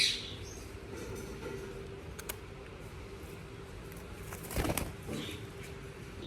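A brief burst of pigeon wing flapping stands out near the end over a low, steady background hum, with faint pigeon sounds scattered throughout.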